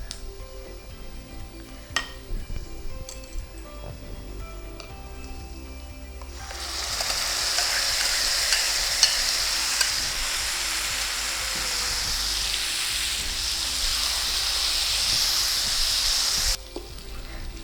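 Spices fry in ghee for venpongal, a loud steady sizzle starting partway through and lasting about ten seconds with occasional stirring scrapes, after a quieter stretch of faint kitchen clatter.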